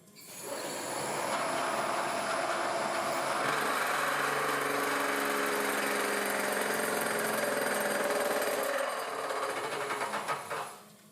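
A milling tool cuts aluminum with a sustained, loud buzzing chatter that runs steadily for several seconds, then winds down abruptly near the end.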